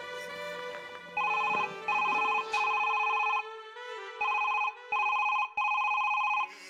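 A telephone rings indoors with a repeating electronic tone in regular bursts separated by short pauses, fairly clear and alone with only faint background sound.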